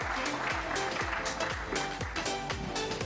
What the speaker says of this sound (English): A big round of applause for Paru